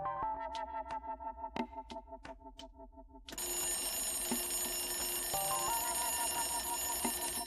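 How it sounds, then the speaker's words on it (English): An alarm clock sound effect starts as a series of quick, bright electronic beeps, then turns into a loud, continuous shrill ringing that holds steady and alone until the end. "The blaring alarm jolted me awake, its shrill tone slicing through the thick haze in my head"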